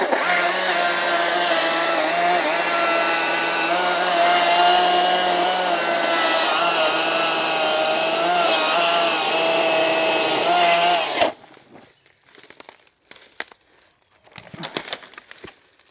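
An Ego CSX5007 56V 20-inch commercial battery chainsaw cuts steadily through a large forked section of tree trunk, a loud continuous whine lasting about eleven seconds before stopping abruptly, followed by scattered soft knocks and rustles.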